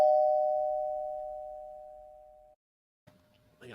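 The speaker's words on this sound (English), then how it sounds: "We're going to do the doorbell." An electronic doorbell chimes once up close, its tone ringing out and fading over a couple of seconds, followed by brief silence and then faint crowd noise in a room during a game night event.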